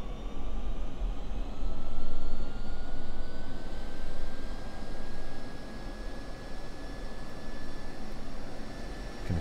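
The F-16 jet engine in DCS spools up with a loud, steady roar and a slowly rising turbine whine. The sound holds constant and close for the whole stretch, with no voices.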